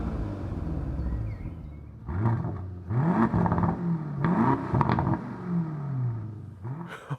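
A performance SUV, either an Audi RSQ8 or an Aston Martin DBX, blips its engine in several loud, throaty revving bursts with rising and falling pitch, separated by brief dips in the exhaust note.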